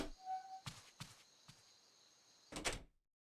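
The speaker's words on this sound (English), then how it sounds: "Junpei shuffled up the stairs and opened the door to apartment 201." An apartment door opening in the game 999: a few knocking thumps and clicks, a pause, then a brief louder rattling swing before abrupt silence, with no talking.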